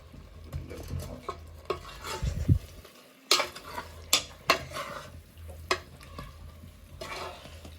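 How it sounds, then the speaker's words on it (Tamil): Chicken biryani masala is stirred in a pot, heard as a series of distinct clinks and scraping knocks of a utensil against metal over a faint background sizzle, with quiet gaps between strokes. "நல்லா மிக்ஸ் பண்ணிக்கணும்"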